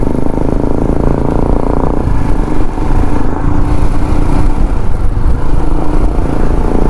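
A Royal Enfield Himalayan motorcycle engine runs loud and close while riding in West Sikkim, giving a steady, throbbing drone with slight shifts in pitch as the throttle changes and no talk over it.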